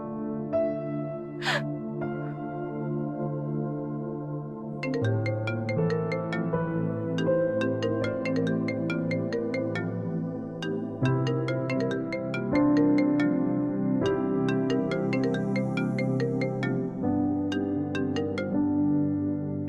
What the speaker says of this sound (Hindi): निशा तुम मेरा फोन क्यों नहीं उठा रही?